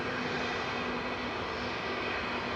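A Boeing 757 jet airliner at an airport rumbles as a steady, fairly faint broadband roar with a faint constant whine, continuous throughout and without talk.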